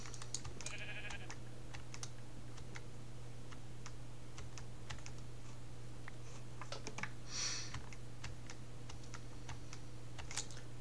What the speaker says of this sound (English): There's a shitload of sheep over here.